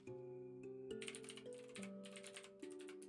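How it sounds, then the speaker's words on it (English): A clicky computer keyboard is typed on in quick, irregular bursts of sharp clicks. The typing is faint and sits under sustained background music. "I love clicky keyboards."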